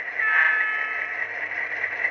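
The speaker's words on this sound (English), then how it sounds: "F3, the short air horn." A short, steady blast of a Walthers SD9 model locomotive's sound-system short air horn, loud and sustained for about two seconds with no voices.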